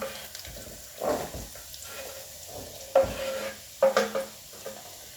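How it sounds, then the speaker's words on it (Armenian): Onion and garlic sizzle steadily in butter and oil in a hot pan while a utensil stirs and scrapes through it in a few bursts, close and fairly soft. "սոխն ու սխտորը միասին խառնում ենք, մի քիչ թող լավ տապակվի"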